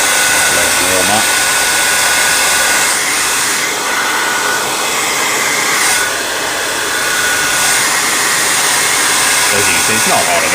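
A hair dryer set to low heat and low fan warms wax on a Flint and Tinder waxed jacket, a loud, steady blowing whir lasting throughout, with a voice faintly audible at moments.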